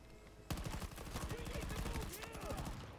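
Rapid tap-fired shots ring out in Battlefield 2042 on the Kaleidoscope map, a fast steady string of close gunshots that starts abruptly and keeps going, with a voice faintly underneath.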